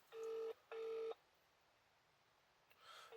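A telephone is dialed, with two clear, steady keypad tones close up separated by a short gap, then quiet line noise and the start of a third tone.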